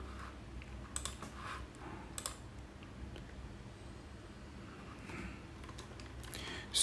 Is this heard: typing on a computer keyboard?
yes